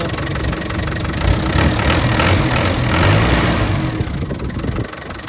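A diesel engine from a 1998 Land Rover Defender 110 with the 300Tdi idles steadily and close by, giving a constant low rumble with a faint clatter and a slight swell in the middle.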